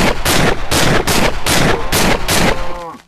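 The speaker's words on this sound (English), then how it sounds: "And then there's the Thompson, which shoots at a slightly faster rate" A Thompson submachine gun fires in a video game with a World War 2 guns mod, rapid loud repeated shots pounding close for about two and a half seconds before trailing off.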